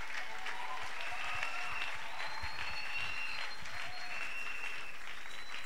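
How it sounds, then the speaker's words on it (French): A church congregation welcomes the speaker with dense, loud, continuous applause and cheering that fills the whole stretch, and faint voices are mixed into the crowd. "Nous allons accueillir l'orateur avec des acclamations"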